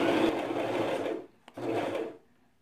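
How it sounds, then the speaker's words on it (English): A sewing machine stitches fabric for a pillowcase in two steady whirring runs, with a soft click in the short pause between them and a sharp tap at the end. "remember you're sewing on the right side of the fabric"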